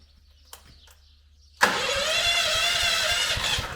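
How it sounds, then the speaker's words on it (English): An air compressor, used while sanding and painting, kicks on abruptly after a quiet moment and then runs loud and steady with a constant motor whine and low pulsing throb. "So while the air compressor is charging up with air"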